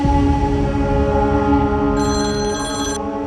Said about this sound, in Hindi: किसका फोन है? अब पता नहीं, कोई अननोन नंबर है।